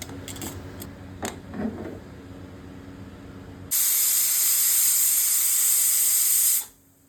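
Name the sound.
pressure cooker steaming khichuri, whistling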